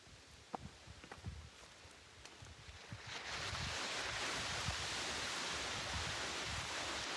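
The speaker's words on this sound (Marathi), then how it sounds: "नदीचा आवाज येतच असेल तुम्हाला" River water, muddy after rain, rushing steadily near a field; footsteps and rustling are heard for the first three seconds before a loud, continuous broadband flow takes over.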